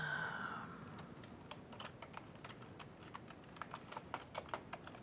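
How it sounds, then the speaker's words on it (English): Rapid typing on a loud computer keyboard: irregular clusters of sharp, close key clacks over a faint background hum, continuing steadily with a few harder strokes toward the end. "keyboard is really loud"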